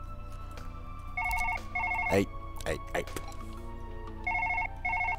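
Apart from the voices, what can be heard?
telephone ringing in video game Surgeon Simulator 2013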